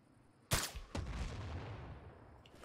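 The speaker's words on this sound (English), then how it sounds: "Yay! Explosions worked!" An explosive sniper bullet detonates in the video game Sniper Ghost Warrior 3: a sudden loud blast, quickly followed by a second boom, then a long rumbling decay that fades over a couple of seconds.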